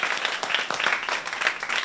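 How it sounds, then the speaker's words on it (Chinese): An audience applauds at a stand-up comedy contest. The crowd's clapping is dense and lively at a steady, fairly close level throughout the short stretch, with no speech over it. "给自己一个掌声，谢谢大家。"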